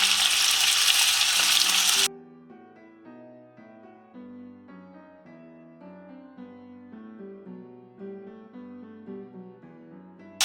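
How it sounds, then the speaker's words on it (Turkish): Loud, hissing sizzle of chicken frying in hot oil for about two seconds, abruptly replaced by soft background music. "yağımız ısındıktan sonra tavuklarımızı koyuyoruz"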